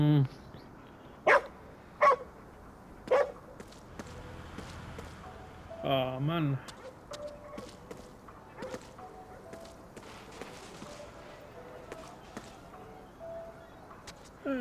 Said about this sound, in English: Another dog over there.